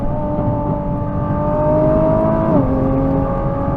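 A 2023 Nissan GT-R's engine drones steadily from inside the cabin, its pitch climbing and then dropping abruptly as the dual-clutch gearbox snaps through a quick shift, with no talk over it.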